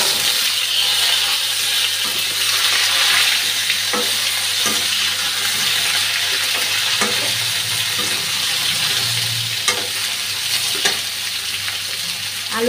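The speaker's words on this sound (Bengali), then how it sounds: "এখন ঝিঙ্গেটা ভেজে নিচ্ছি।" Slices of ridge gourd fry in hot oil, a dense continuous sizzle close by, broken now and then by soft clicks of stirring.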